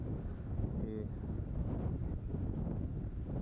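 Ocean wind at the Orange River mouth where it meets the sea, buffeting the microphone with steady loud rumble and gusts, with a brief voice heard once.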